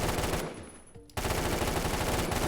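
Rapid automatic gunfire from a low-recoil gun in the shooter game Phantom Forces, loud and continuous, broken by a brief pause of about half a second before resuming at full rate.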